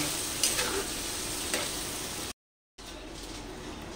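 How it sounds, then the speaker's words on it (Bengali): Spice paste of ground coriander, cumin and ginger frying in a pan with a little water gives a steady close sizzle with faint stirring scrapes, cut off by a brief silence. "এই মশলাটাকে এখন ভালো করে কষে নেব"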